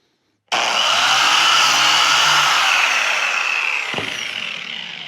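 Biscuit joiner spinning up with a sudden loud, steady high whine as it cuts a slot in scrap wood, holding close and constant for several seconds before easing slightly.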